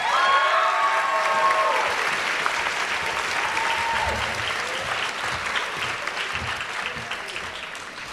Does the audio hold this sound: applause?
yes